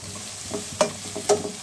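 Fenugreek seeds tempered in hot oil with onion in a village home kitchen, giving a soft, steady sizzle with a couple of sharper crackling bursts, close and fairly quiet, no talking.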